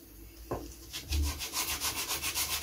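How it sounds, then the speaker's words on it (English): A wooden model aircraft part for a slow-fly Spitfire build is sanded flat, a single sharp tap followed by steady back-and-forth rubbing strokes, close and fairly loud with no voices. "This needs to be sanded flat,"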